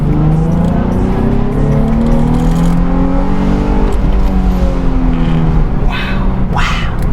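A loud Nissan 350Z engine with open exhaust drones and revs steadily up close, its pitch sweeping up and down, with a brief sharper burst near the end.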